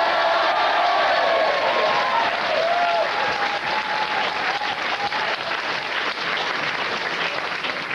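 A comedy club audience at Jongleurs bursts into loud, sustained applause, a thick wash of clapping with a few faint whoops that holds steady throughout.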